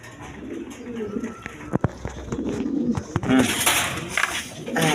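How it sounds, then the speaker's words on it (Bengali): A pair of Khormona pigeons coo softly near a seller, with scattered clatter and brief handling noises around them and someone talking at times. "এখানে এক পেয়ার কোয়ালিটি সম্পন্ন খরমনা কবুতর আছে"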